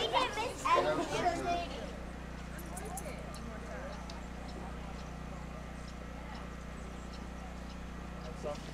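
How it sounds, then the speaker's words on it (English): Horses approaching on a morning outing, soft hoof clip-clops faint in the distance beneath a low steady hum, after a few seconds of people talking at the start. "horses are coming."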